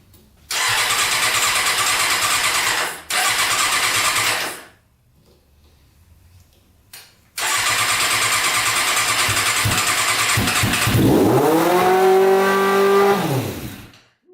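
Yamaha Banshee two-stroke engine with a stage 4 jet kit cranks and fires loud and close, runs briefly, cuts out, then restarts and revs hard, its pitch swooping up and back down before shutting off.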